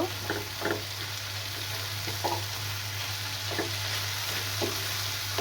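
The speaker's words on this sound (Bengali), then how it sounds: "আগে থেকে কেটে রাখা ধুন্দলগুলো এখন দিয়ে দিব। ভালো করে একটু মিক্স করে নেব।" Ridge gourd is stir-fried with potatoes in a pan: a constant close sizzle broken by several soft scraping stirs of the spatula, with no talking.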